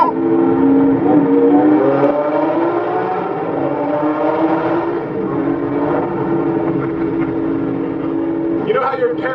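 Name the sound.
Lamborghini Centenario engine driving through a tunnel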